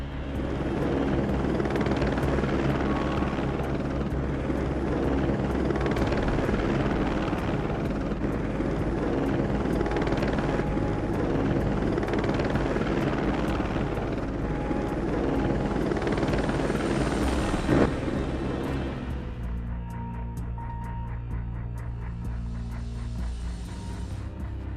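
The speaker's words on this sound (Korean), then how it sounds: "헬리콥터에 붕소, 자갈, 모래 등을 싣고 원자로 위로 날아갑니다" Helicopter flying over a nuclear reactor, loaded with boron, gravel and sand: a loud, continuous rotor drone with rhythmic blade chop that thins out toward the end.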